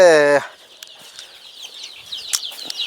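Native country chickens running and flapping outdoors on a village farm: one loud, brief squawk opens, then faint scattered rustling and light movement noises follow.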